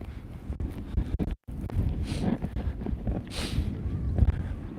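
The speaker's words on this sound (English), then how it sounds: "And it's still pretty windy." Gusty wind blows outdoors, buffeting the microphone in a steady broadband rush with brief surges and one short dropout, heard alone with no talking.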